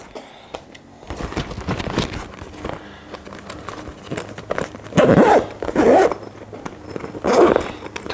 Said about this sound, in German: Tasche zu.